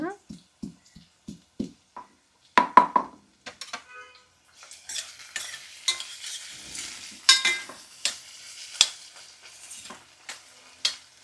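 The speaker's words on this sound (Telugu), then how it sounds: "కొంచెం ఫ్రై అవ్వాలండి ఆ నీరు లాగేస్తే ఇదిగోనండి చక్కగా ఫ్రై అయిపోయింది" Broad beans frying in a pan for a curry, with spoon stirring and scraping against the pan and a light sizzle close by, in rhythmic clinks and bursts, while a voice talks over it.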